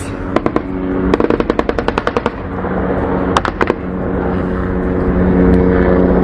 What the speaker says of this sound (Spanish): ¿Escucha usted los disparos nada más?